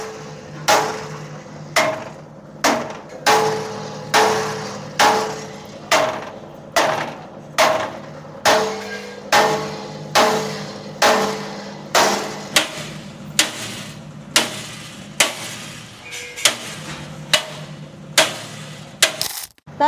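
A motor-driven chaff cutter machine runs in a live demonstration, its blade striking in a loud, regular thumping rhythm about once every second, close and steady with no talk.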